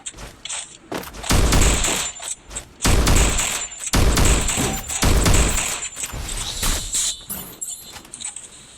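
Bursts of rapid automatic gunfire from the mobile battle royale game Free Fire, several loud volleys separated by short pauses, with clicking weapon handling sounds in between.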